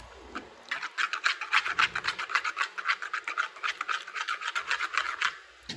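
A sauce with garlic powder being stirred in a bowl, a quick run of rhythmic scraping and rasping strokes, close and fairly quiet, with no talking.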